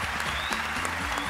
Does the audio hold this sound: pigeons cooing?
no